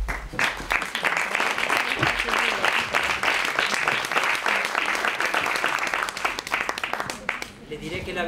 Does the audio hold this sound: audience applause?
yes